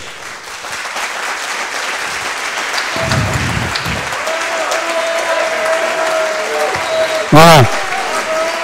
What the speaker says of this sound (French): j'aimerais qu'on l'applaudisse tout de suite